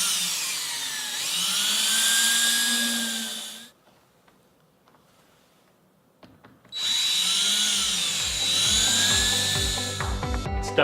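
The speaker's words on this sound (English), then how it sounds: "I can actually place that screw and go through without pre-drilling through the shims." A power driver sinks a screw through a window jamb and horseshoe shims in two loud whining bursts separated by a quiet pause, the second run ending in rapid clicking as the screw seats.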